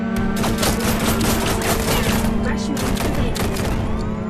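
Pistol fire in the VR shooter Runner, with a dense, loud barrage of rapid shots and impacts over steady game music and a droning tone, continuous from start to finish.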